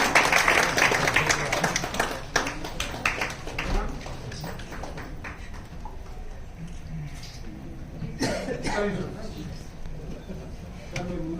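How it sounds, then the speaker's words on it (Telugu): Loud applause from an audience honouring guests at a ceremony for Abdul Kalam's birth anniversary, strongest in the opening seconds and then thinning into scattered claps beneath ongoing voices and hall noise. "మరి గట్టిగా చప్పట్లతోని వారిని సత్కరించుకుందామండి"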